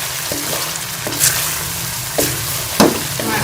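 Italian chicken frying in a pan makes a steady, close sizzle. A few sharp clinks and scrapes of stirring cut through at irregular intervals. No one speaks.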